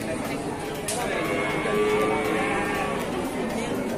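Busy cattle market at year's end, with continuous crowd chatter and people talking close by over dense background noise, while faint livestock calls are mixed into the hubbub.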